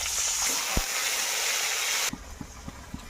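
Turmeric, cumin and salt hit hot oil in a wok for a chital fish curry, giving a loud, dense sizzle that cuts off abruptly to a quieter simmer with a few soft, evenly spaced taps.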